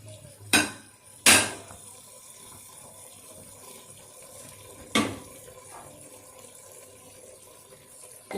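Water splashes into a cooking pot for curried mutton in a few short bursts, with faint kitchen clatter and quiet background between pours.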